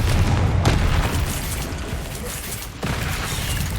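A Confringo fire spell in the video game Hogwarts Legacy erupts in a booming explosion, a loud, heavy burst that rolls out into a sustained rumble, with a second softer impact near the end.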